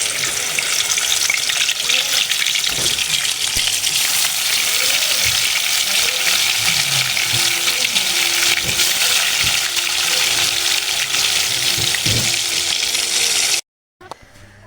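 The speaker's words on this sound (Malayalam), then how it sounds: "ഇപ്പോൾ ഇവിടെ ഞാൻ സവാള പൊരിച്ച് കോരിയ എണ്ണയാണ്. ആ എണ്ണയിലേക്ക് നമുക്ക് ചിക്കനൊന്ന് ഇട്ട് കൊടുക്കാം." Chicken pieces fry in oil left over from frying onions, a loud, steady sizzle with bubbling that runs unbroken for about fourteen seconds, then cuts off abruptly.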